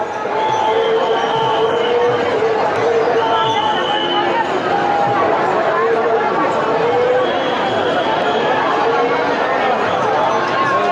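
A huge crowd of devotees fills a palkhi procession in Pune, a dense, steady roar of chatter and babble that stays loud and continuous throughout.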